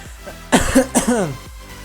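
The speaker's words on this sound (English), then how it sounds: "Sorry, I have to still cough." A person at a microphone gives a few harsh, close coughs in two quick bursts, loud and alone with no other sound.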